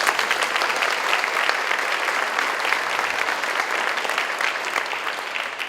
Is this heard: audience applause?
yes